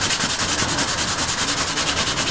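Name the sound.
hand sanding leather car seat filler with 320 grit sandpaper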